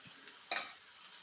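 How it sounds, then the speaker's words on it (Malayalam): A spoon stirs ground chilli, coriander and turmeric in a cooking pan. One short, close scrape stands out against quiet background hiss. "നല്ലവണ്ണം ഇളക്കി കൊടുക്കാം"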